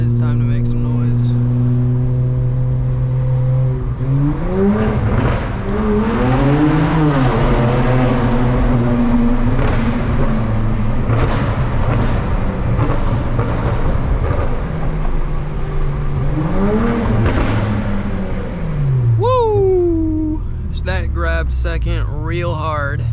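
A BMW 335i engine revs hard while driving, close and loud, surging up and down in pitch through several strong pulls with a short burst of revving near the end.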